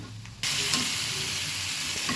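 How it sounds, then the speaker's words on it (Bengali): Spice paste sizzles loudly in a hot pan after hot water is added for a fish curry with new potatoes, a sudden burst of steady frying hiss that holds on continuously and close. "মশলাটা কষানোর জন্য আমি অল্প একটু গরম জল দিয়ে দিচ্ছি।"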